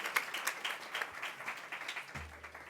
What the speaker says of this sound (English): Now, Jonathan, most people were clapping